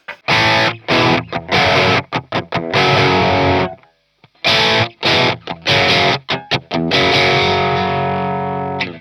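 Heavily distorted Newmann GT40 electric guitar with split coils plays chunky chords in bursts with brief gaps, loud and close, ending on a sustained ringing chord.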